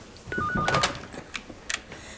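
Short electronic telephone tones and clicks from a mobile phone calling out, brief beeps followed by scattered taps, fairly close but modest in level.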